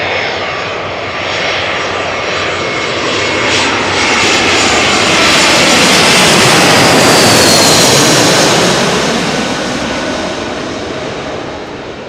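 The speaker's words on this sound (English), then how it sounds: "the beautiful sound that a 777 freighter or 300 makes during landing" A Boeing 777, freighter or 777-300, comes in to land at Amsterdam Schiphol, its jet engines building into a loud, broad roar that peaks as it passes close overhead and then slowly fades away.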